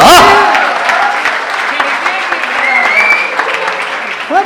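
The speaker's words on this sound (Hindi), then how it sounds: "भाई जरा एक बार जोरदार तालियां बजा दो" A poetry gathering audience claps loudly together, a dense burst of applause that runs throughout, while a voice talks over the opening and end.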